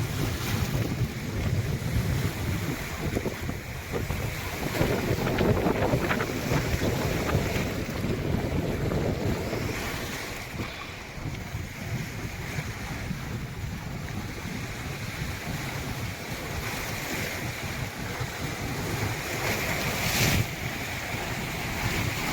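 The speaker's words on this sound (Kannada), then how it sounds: "ಈ ಅಲೆಗಳನ್ನು ಹತ್ತಿರದಿಂದ ನೋಡೋದೇ ಒಂದು ಆನಂದ ಸಾಕಷ್ಟು ಎತ್ತರದ ಅಲೆಗಳು ಬರ್ತಾ ಇದ್ದಾವೆ" High waves wash and churn on the Tungabhadra dam backwater at Munirabad near Hosapete, a steady broad roar of water and surf mixed with heavy wind buffeting the microphone, continuous and close, with no speech.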